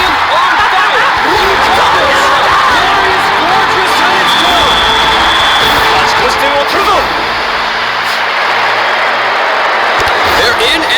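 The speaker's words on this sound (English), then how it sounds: "Every time you get a goal, your fans cheer and they show them." Crowd of fans cheering after a goal in the Captain Tsubasa 2 World Fighters soccer video game: a dense, steady roar holds for about eleven seconds, loud and continuous, with game sounds layered through it.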